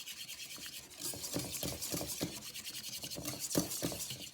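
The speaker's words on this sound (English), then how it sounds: "Let's whisk this in here together." A crab cake mixture of blue crab, lemon juice and dry mustard is whisked in a bowl, making a soft, steady rhythmic scraping and rubbing that stays quiet and close throughout, with no voices.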